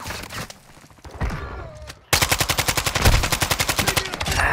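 Rapid automatic gunfire in Call of Duty: Modern Warfare 2 rattles off as a steady, loud burst of evenly spaced shots lasting a couple of seconds, after a few scattered shots and thuds.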